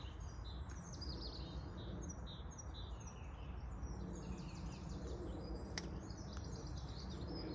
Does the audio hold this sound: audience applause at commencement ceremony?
no